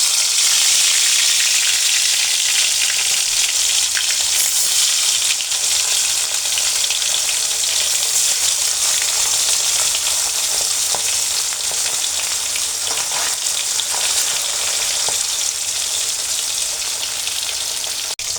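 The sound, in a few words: frying hilsa fish pieces in hot oil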